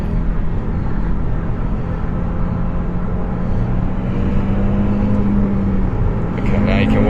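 An Audi RS3 Quattro accelerating hard, its engine a loud, steady rumbling roar heard from inside the car with a tone that rises slowly, while someone talks over it.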